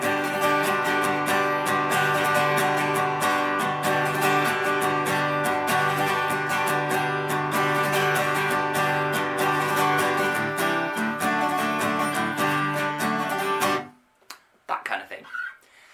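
Guitar strummed in a slip jig rhythm with strummed triplets for Irish backing, a steady, continuous, close pattern of chords that stops near the end, followed by a brief quiet rustle.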